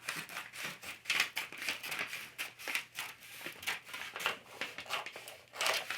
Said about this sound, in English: And I'm going to cut it just as far as I cut that one.